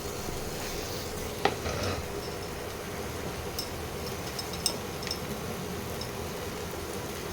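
Tomato prawn curry sautéed in a pan, giving a steady, close sizzle and fry hiss with a couple of brief spoon scrapes and clinks against the pan, and no voices.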